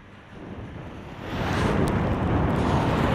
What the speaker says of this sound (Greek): ενώ η χιονόπτωση συνεχίζεται και υπάρχουν ισχυροί άνεμοι